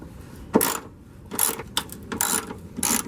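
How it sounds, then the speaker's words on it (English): Ratchet wrench turning out 10mm bolts up inside a car's fender while working on a door hinge: five bursts of rapid, close clicking separated by short pauses, with no talk. "Now up inside of the fender we have two more 10mm bolts to remove"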